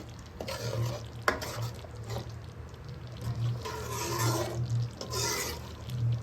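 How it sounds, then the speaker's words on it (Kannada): Fish curry masala simmering in a pan while being stirred, with soft scraping strokes and a low bubbling sizzle that continue steadily at close range, with no talking. "ಇವಾಗ ಇದನ್ನು ಚೆನ್ನಾಗಿ ಮಿಕ್ಸ್ ಮಾಡ್ಕೊಳ್ಳೋಣ. ಒಂದೆರಡು ನಿಮಿಷ ಹೀಗೆ ಕುದೀಲಿ"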